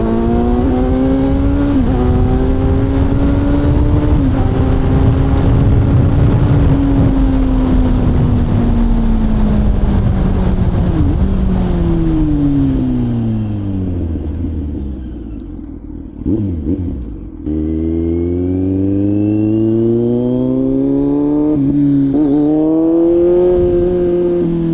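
A CFMoto 450NK engine pulling hard while riding, its droning note rising steadily through the gears, then dropping through a brief lull before climbing again, loud and close with continuous wind rush and no talk.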